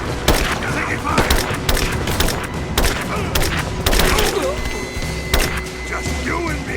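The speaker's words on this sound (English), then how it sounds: "Taking fire!" Rapid, loud gunfire in Rise of the Tomb Raider, with repeated sharp shots and booming impacts throughout, alongside brief in-game voices.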